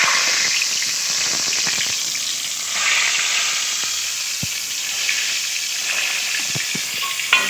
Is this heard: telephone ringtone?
no